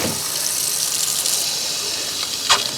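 Pink antifreeze runs from a faucet in a Fleetwood Bounder motorhome being winterized, a steady close hiss of flowing water with a brief splash near the end.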